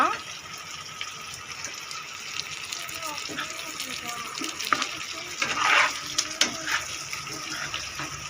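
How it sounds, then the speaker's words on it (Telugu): Eggplant frying in a pan with green chilies, cumin and curry leaves, a faint steady sizzle with occasional stirring scrapes, under quiet talk. "దీంట్లో మనం పచ్చిమిర్చి సన్నగా తరిగిన పచ్చిమిర్చి అయితే వేసుకోవాలి కొద్దిగా జీలకర్ర కరివేపాకు వంకాయలు అనేది ఫ్రై చేస్తూ ఉండాలన్నమాట"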